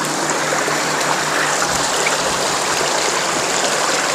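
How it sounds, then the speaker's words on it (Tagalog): A stream running near a house makes a steady, loud, broadband rush of flowing water that is continuous and close, with no voices over it. "Ganong pagbaba nyo pa lang ay may may sapa."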